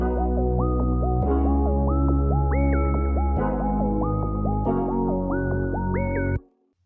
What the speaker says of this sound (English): the guitar sounds like this when the beat is coming in.